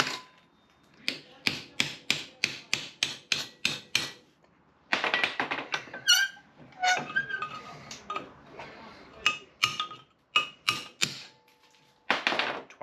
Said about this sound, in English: So now we're just going to snap them apart with a cold chisel and put them back together.